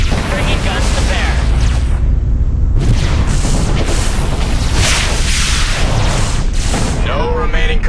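Ship guns firing in the space strategy game Sword of the Stars: loud, continuous booming barrages and mechanical blasts that keep up without a break, with a brief dip midway.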